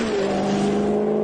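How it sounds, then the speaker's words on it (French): The Ferrari-derived V8 engine of a Maserati GranTurismo S revs loudly close by, holding a sustained, throaty drone. "le moteur de la Gran Turismo S a un sacré pédigré, puisqu'il s'agit ni plus ni moins d'un moteur Ferrari"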